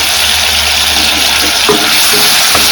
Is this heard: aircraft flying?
no